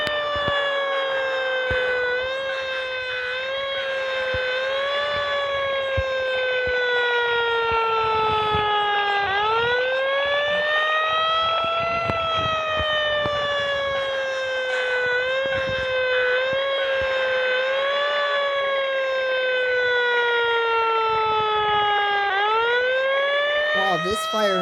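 A loud wailing siren from a Pierce Enforcer fire engine in the game Fire Truck Simulator rises and falls repeatedly in long sweeping cycles, steady and close, filling the whole stretch without pause.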